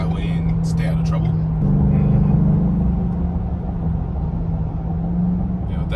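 Steady low engine drone from inside a 2021 Roush F-150 pickup with a 10-speed automatic, cruising along with a slight surge in the middle and continuous road rumble throughout.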